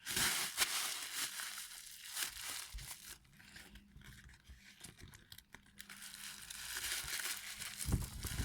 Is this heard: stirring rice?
no